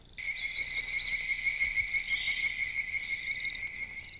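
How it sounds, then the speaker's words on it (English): Bird-voiced tree frogs in the Okefenokee hold a steady, high-pitched trilling chorus without a break, a dense pulsing whistle over faint low rumble, with sweeping chirps rising and falling above it. "And this one is called the bird voice tree frog."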